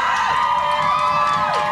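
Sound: crowd cheering outside the studio window

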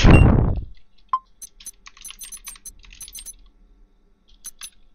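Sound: typing on a computer keyboard

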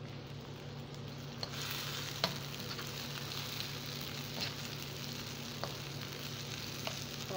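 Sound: frying cabbage and tomatoes in a pan

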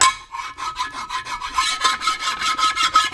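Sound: filing Muncie transmission case surfaces flat

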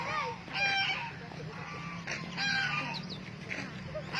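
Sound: geese honking

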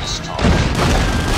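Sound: grenade explosion in the video game Call of Duty Mobile

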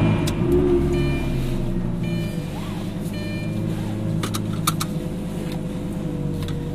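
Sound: Lamborghini Gallardo engine startup

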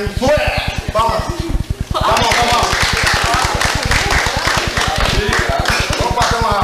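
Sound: audience clapping at a theatre group meeting

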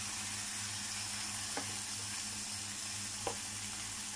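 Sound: vegetables frying in a pan with meatballs

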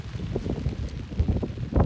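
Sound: wind on an Alaska ridge

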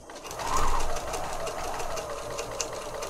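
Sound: sewing machine stitching a journal

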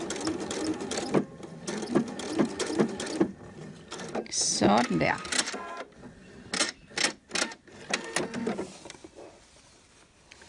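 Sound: sewing machine sewing a Liberty fabric shirt

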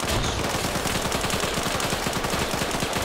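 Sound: gunfire in a video game

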